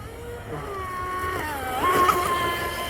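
An RC Proboat Blackjack 24 fitted with an ABC propeller runs on the water, its electric motor a steady high whine that shifts pitch as it speeds up, heard from a moderate distance over wind.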